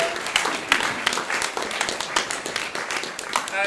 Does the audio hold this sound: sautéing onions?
no